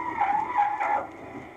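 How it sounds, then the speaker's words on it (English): Loud tire skid as a new Holden car makes a panic stop from speed, a sustained squealing screech lasting over a second before fading out. "Just listen to a full panic stop from 50 miles an hour."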